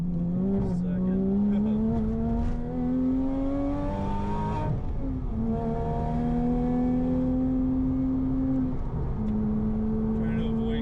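Built Porsche Cayman S pulling hard in fourth gear. The engine note climbs steadily, drops briefly at a shift around five seconds, then rises again. It is loud and close throughout, with a voice faintly under it.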